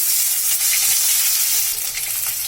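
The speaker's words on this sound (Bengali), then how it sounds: "এবার আমি ওই গরম তেলে আলু গুলো আগে একটু ভেজে নিচ্ছি এবার দিচ্ছি বেগুনগুলো" Potatoes and then eggplant frying in hot oil for a Bengali vegetable and tangra fish curry, a steady broadband sizzle that stays loud and close throughout with faint stirring, easing slightly near the end.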